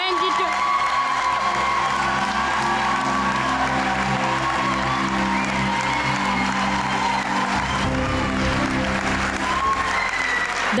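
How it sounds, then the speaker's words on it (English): Graduation audience applauding and cheering in a hall, a dense continuous roar of clapping with whoops and shouts, while a voice carries over it and the crowd swells near the end. "Let us give a massive round of applause to our 22."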